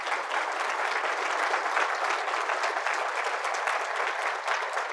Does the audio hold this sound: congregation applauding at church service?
yes